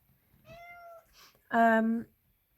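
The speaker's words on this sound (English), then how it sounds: "I've just had my cats just come in to say hello" A pet cat meows indoors: a soft, short mew first, then a louder, drawn-out meow close to the microphone, with a quiet pause between the two calls.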